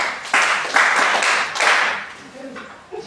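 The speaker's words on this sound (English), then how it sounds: "Clap for her." Applause for a student in a classroom laboratory lesson, with a handful of close, distinct hand claps in an uneven rhythm that thin out toward the end. A faint voice comes in near the finish.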